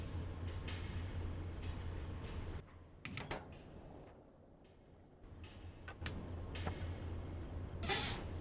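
A freight train in the video game Factorio, modded with Pyanodon's, rolls along with a steady rumbling drone and a low hum, broken by a few short sharp clanks and hisses near the middle and the end.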